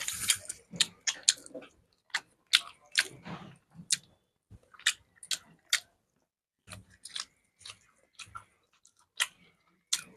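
Close, crisp chewing and smacking mouth sounds in an uneven rhythm, with wet clicks and short pauses, as food is eaten without hands by mouth alone.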